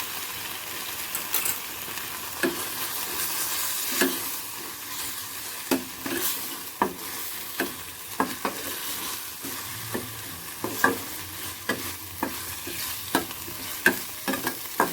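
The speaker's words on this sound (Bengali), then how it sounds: "এটাকে আমি ভালো করে কষে নেব" Spice masala frying in a pan while being stirred, a steady sizzle broken by repeated scraping strokes of the spoon, close and alone.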